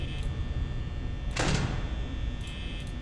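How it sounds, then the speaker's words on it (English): A security door slams shut in the Five Nights at Freddy's video game, a single loud broadband whoosh-thud about midway through, over a steady low background hum. "I just closed the door on the west side."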